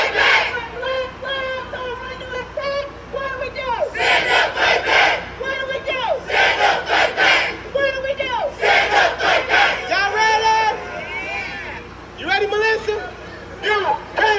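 A large protest rally crowd chants and shouts in loud rhythmic bursts, driven by a leader on a bullhorn, with voices rising and falling throughout.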